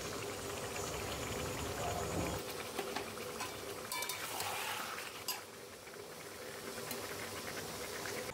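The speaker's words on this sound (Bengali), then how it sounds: "বেশ সময় ধরে মটনটাকে একটু লো ফ্লেমে কষিয়ে নিলাম।" Mutton sautés in a pot over a low flame, making a quiet, steady hiss and bubbling, with faint clinks and scrapes of a utensil partway through.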